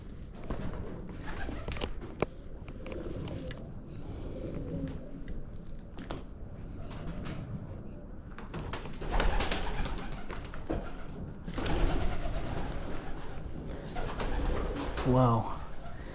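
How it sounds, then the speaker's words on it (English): Soft pigeon coos and shuffling, fluttering movement in the upstairs of an abandoned factory, quiet and echoey, with a few faint knocks and rustles. "The movement of the pigeons, the cooing, makes this place feel a little bit haunted."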